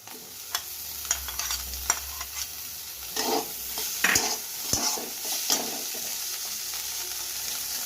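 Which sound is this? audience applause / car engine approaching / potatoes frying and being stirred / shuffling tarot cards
potatoes frying and being stirred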